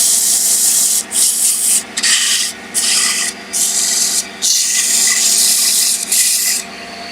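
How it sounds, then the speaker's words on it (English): Wood is lightly sanded by hand with 180 grit sandpaper while making a tiered Japanese box, a loud close rasping rub in repeated strokes with short pauses between passes. "I'm just giving a very light sand because I had the diameter pretty close."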